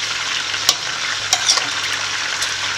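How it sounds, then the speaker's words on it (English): Meat cooks in a pot with seasoning for a stew served with basmati rice, frying with a steady close sizzle broken by a few sharp stirring scrapes and clinks. No one speaks. "you just allow the meat to cook."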